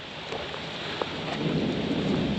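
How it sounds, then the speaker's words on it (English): Heavy rainstorm pouring steadily over a newly seeded lawn, a dense continuous hiss of rain with a low rumble of thunder building beneath it, loud and close, without voices. "we got some heavy rain today"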